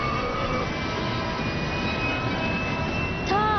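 A jet plane flies in the Avengers Assemble animated series, giving a loud, steady roar throughout with a rising whistle-like whine near the end.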